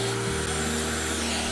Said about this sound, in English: You ever heard of a window cleaning vacuum?